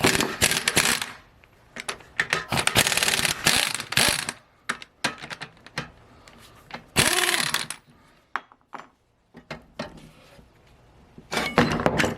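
A hand ratchet works on bolts on the subframe of a Mercedes W108, giving close, loud bursts of rapid clicking separated by short pauses and scattered metal clinks, with no talking.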